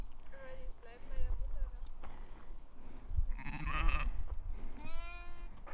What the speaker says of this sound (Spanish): Me encantan las ovejas y las cabras.